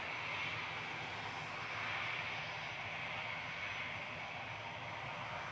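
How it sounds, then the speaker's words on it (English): A Ryanair plane from Dublin, registration 9H-QAB, at Manchester Airport sends out a steady, fairly distant aircraft-engine roar, a broad continuous rumble that holds level throughout with no talk over it. "Ryanair from Dublin in the background there, 9HQAB. That plane is so noisy."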